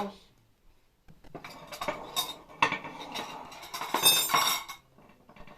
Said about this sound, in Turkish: İlk önce şu dolaba giden eşyaları kaldırayım.